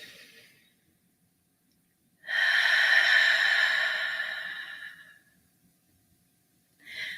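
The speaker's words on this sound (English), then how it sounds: "Deep, deep breath, and then just let all that air out." A slow, deep exhalation during a guided morning prayer, one long breath let out for about three seconds before fading, with a fainter breath at each end of an otherwise quiet stretch.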